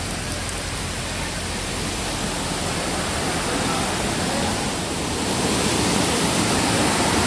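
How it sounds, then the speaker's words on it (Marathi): The Somtirth waterfall near Nivendi village, Malgund and Ganpatipule, plunges from a height in a steady, broad roar of rushing water, close and unbroken with no voices over it. "समोरच बघताय हा बऱ्यापैकी उंचावरून कोसळला सोमतीर्थ धबधबा"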